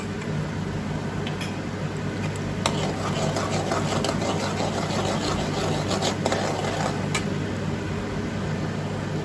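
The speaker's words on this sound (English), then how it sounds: "now I'm going to saute it until it is brown and the rawness is like no more" Chopped garlic sautés in a pan over a high flame, giving a steady, close sizzle that runs throughout, with a few faint clinks and scrapes of stirring.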